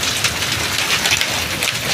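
Hail pelts down during a windstorm, a dense, steady patter of hard hits across a surface, close and continuous for the whole stretch with no voices.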